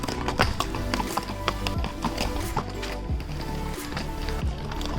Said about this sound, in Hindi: और सारे घोड़े अपनी सवारियाँ लेके फिर से जा रहे हैं मार्केट एरिया की तरफ